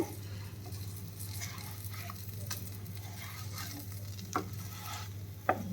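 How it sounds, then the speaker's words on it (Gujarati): Raja Rani paratha cooking in butter on a griddle while being stirred, a soft steady sizzle under scraping and stirring, with a couple of sharp clacks of a spatula near the end. "અને આમ હલાવતા રહીએ, જેથી આપણે નીચે બટર લીધું છે એ બટર બધું જ એમાં આવી જાય."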